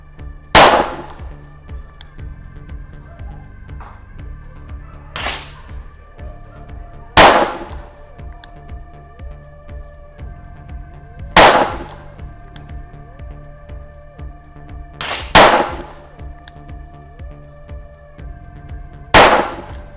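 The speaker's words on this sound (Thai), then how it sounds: "อ่ะลองยิงดูนะครับ ระยะ 7 เมตรนะครับ ยิงแบบซิงเกิล สัก 5นัดก่อน" Revolver fired single-action at a 7-metre range, loud sharp reports spaced a few seconds apart with ringing decay and quiet gaps between, about half a dozen shots with no talking.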